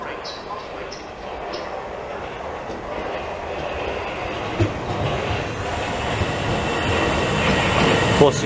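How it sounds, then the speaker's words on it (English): A Southeastern passenger train, a Class 465 service toward Charing Cross via Hither Green, rumbles steadily at Grove Park station with broadband rolling noise and faint high squeals, loud and continuous throughout. "it's the 11:01 southeastern service to Charing Cross via Hither Green"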